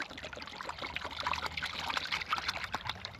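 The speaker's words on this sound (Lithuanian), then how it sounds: "Pilam chemiją." VDE Sweet Dream fishing bait liquid poured into a little water, a light trickling, splashy pour heard close and alone.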